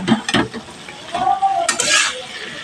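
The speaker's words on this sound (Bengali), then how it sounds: "দুই মিনিট মতো কষিয়ে নেব" Okra, potato and Malabar spinach stems being sautéed and stirred in a pan for a Bengali chachchari: a close sizzle with a few quick spatula scrapes and clinks.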